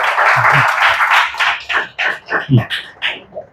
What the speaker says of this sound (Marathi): एकदा टाळ्या वाजून परत स्वागत करा